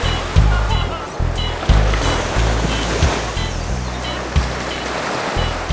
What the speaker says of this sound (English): hanging out here on the beach